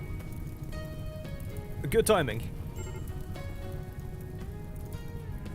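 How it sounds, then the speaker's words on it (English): Rain in the RimWorld video game, a steady soft patter of drops on a surface, with someone talking briefly over it. "Oh, it's raining."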